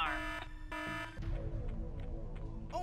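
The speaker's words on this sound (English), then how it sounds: "He triggered the alarm." Syphon Filter 2 alarm blaring in repeated electronic buzzer tones, two loud steady pulses with short gaps, then quieter game noise and a fresh beep as the alert continues.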